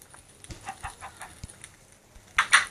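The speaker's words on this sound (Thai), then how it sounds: "มีไก่น้องไก่มาแล้วจ้า" Chickens in Minecraft 0.10.5: a run of soft, close clucks spaced irregularly, followed by a louder, brighter squawking burst near the end, with no talk.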